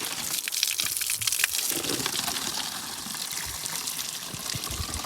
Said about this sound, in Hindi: यहाँ पे पानी भर लिया है